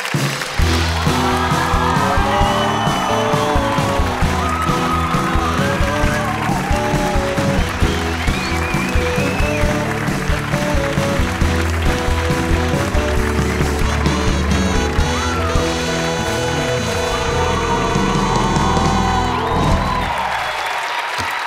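A late-night TV talk show studio audience cheers, claps and shrieks for arriving guests, a loud, continuous roar over band music that lasts throughout.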